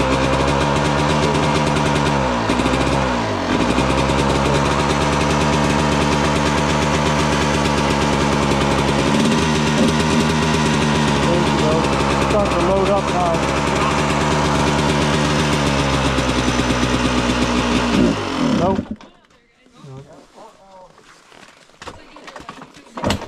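A dune buggy engine idles on choke in a garage, running loud and steady with a slightly uneven beat for most of the time before cutting out near the end, while people talk over it.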